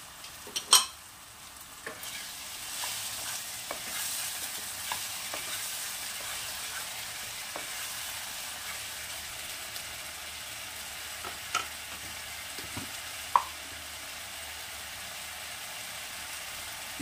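Tomato paste from two large tomatoes frying in a pan for a Bengali shahi aloo dum, a low steady sizzle with a few sharp clicks of a spoon against the pan, heard alone.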